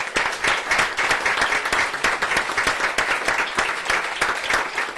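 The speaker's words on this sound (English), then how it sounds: "Let's give them again a big round of applause." Many people in a board meeting audience clap together, a full, sustained round of applause with no pause, evenly loud throughout.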